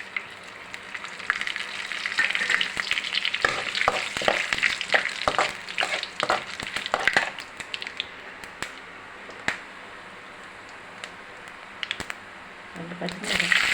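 Green chilies, onion and curry leaves dropped into heated oil for a sprouted green gram kurma, bursting into loud crackling sizzle with rapid pops that fade to sparse snaps, with speech heard at moments.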